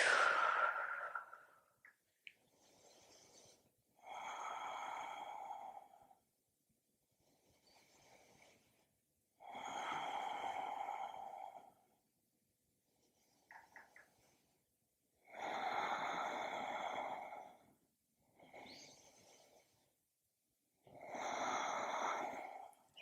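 Slow, deep yoga breathing held through a pose, a steady cycle of airy inhales and longer exhales repeating about five times, close and quiet with no talking.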